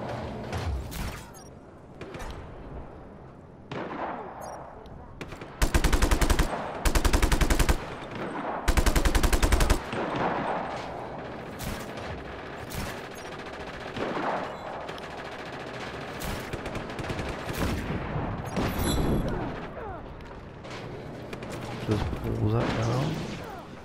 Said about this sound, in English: A few shots up here and there.